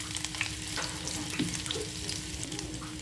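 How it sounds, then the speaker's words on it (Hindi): Cumin, asafoetida, chopped garlic, chilli and ginger fry in a pan with a soft, steady sizzle and faint stirring, quiet and close. "अब इन सभी चीज़ों को हम अच्छी तरह से भून लेंगे।"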